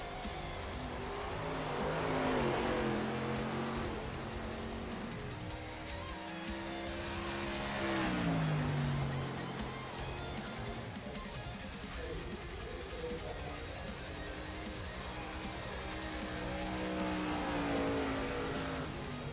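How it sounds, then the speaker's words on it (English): Whelen Tour modified race cars lap a speedway during qualifying, engines swelling and fading as cars pass at a distance, with a rising-and-falling roar repeated through the stretch. "Whelen Tour modified race cars, as we have drivers out on the speedway."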